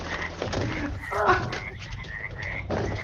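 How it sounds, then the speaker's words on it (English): Dense chorus of frogs croaking in overlapping, rhythmic calls, moderately loud and close, with a steady low rumble underneath and no talk. "Sounds like an orgy of frogs in there."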